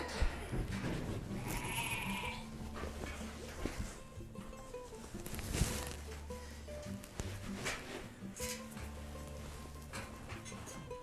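A sheep held immobilized on a trimming stand bleats amid handling noise, with several short bleats spread across the stretch over steady background clatter and rustling.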